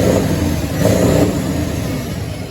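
A car engine revving, loud and close, with two swelling surges of throttle over a rough continuous mid-range roar.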